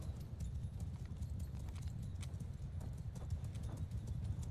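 Horse hooves thud and clatter in a video game battle in Mount & Blade II: Bannerlord as mounted archers charge, a continuous low rumble of galloping at moderate distance with no talk.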